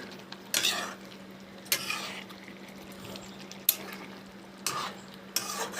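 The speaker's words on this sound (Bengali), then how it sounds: "এখানে হাফ কিলো মাশরুম রান্না হচ্ছে" Half a kilo of mushrooms cook in a pan with a low steady background hum, while a utensil stirs and scrapes in a few distinct bursts spaced about a second apart, close by and without speech.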